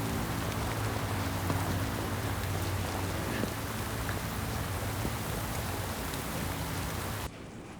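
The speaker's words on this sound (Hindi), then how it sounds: "अब बारिश रुकने का इंतजार तो करना पड़ेगा ना" Heavy rain pours down in a dense, steady hiss with scattered drops striking nearby surfaces, loud and continuous until it cuts to a quieter tone near the end.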